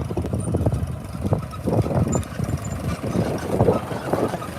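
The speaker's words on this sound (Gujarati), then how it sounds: "મોટું ટ્રેક્ટર બે હારે પાડવાનું કામ ચાલુ છે" A steady, low engine rumble runs throughout with no pauses, a large tractor chugging along nearby in a peanut field, with no voices.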